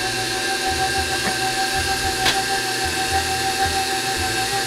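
A stand mixer mixes 7up pizza dough with a steady, loud whirring motor hum that runs the whole time, plus a faint clink partway through.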